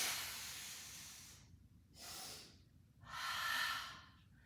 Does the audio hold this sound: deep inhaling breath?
yes